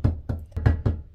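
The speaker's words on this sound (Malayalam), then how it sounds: "നമ്മളത് മൂടി വെക്കുവാണിനി." A lid set down on a pot of masala chicken gives four sharp, close knocks, evenly spaced, with no voices.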